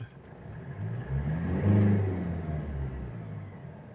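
A 4N15 engine in a Mitsubishi Strada with a lit check-engine light revs in a single rising and falling low rumble, close and steady, with no talking.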